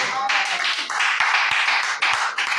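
A church congregation clapping together in a dense, steady burst of applause, fairly close and continuous, with voices mixed in under the claps.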